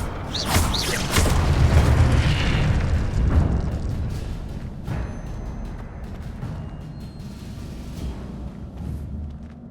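Incendio fire spell cast in Hogwarts Legacy, a loud whooshing burst of flame with a deep rumbling boom that swells in the first few seconds and then fades into a lingering crackle and hiss.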